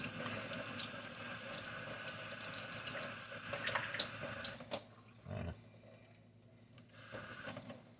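Running tap water splashes into a sink while a 40-year-old toy is scrubbed beneath it, the steady flow broken by scrubbing bursts before dropping to a quieter trickle near the end.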